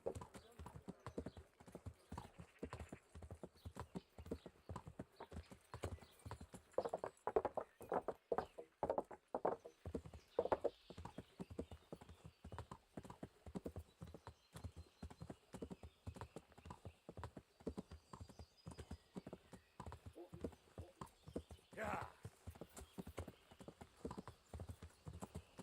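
Horse hooves clip-clopping at a steady walking rhythm in Kingdom Come: Deliverance, a long run of regular close hoofbeats on hard ground with a faint whinny partway through.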